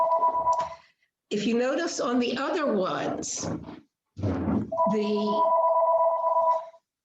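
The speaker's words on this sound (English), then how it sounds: "And excuse my phone, it'll stop in a minute." A mobile phone rings with steady, sustained tones that start and stop, sounding under and between continuous close speech.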